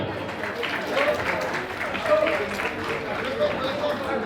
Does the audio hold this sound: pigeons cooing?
no